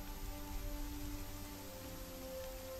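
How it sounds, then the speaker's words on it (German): Steady rain falls in the video game Conan Exiles, a constant hiss with low hum and faint tonal layers underneath, no voices. "Und es regnet und"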